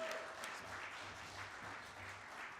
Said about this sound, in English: So can we please give Dylan a massive warm round of applause as he comes on.